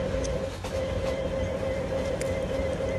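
A train in a Bangladesh railway simulator game rolls slowly into Chattogram railway station, a steady near rumble of wheels and engine with a sustained tonal hum and faint clicks, without speech.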